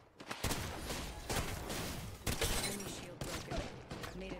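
Gunfire in the video game Apex Legends, bursts of shots cutting in and out over dense battle noise, with several sharp onsets through the moment.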